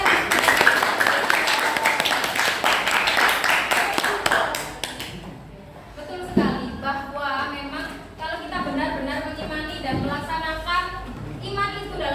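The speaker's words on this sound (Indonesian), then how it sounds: "Kita beri tepuk tangan untuk teman kita." Classroom of seventh-grade pupils clapping for a classmate, dense close applause for about five seconds before fading, followed by a teacher speaking over quieter room sounds.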